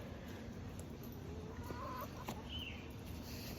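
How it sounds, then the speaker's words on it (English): A hen clucks softly while feeding her chicks outdoors, giving faint, scattered clucks over steady insect and background noise. "Sadie, leave that bird alone. She's trying to feed them babies"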